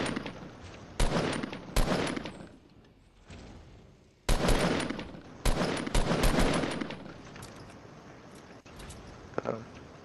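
Fortnite gunfire, including sniper shots, crackles in loud separate bursts and sustained volleys with quieter gaps between them, while a voice talks over part of it.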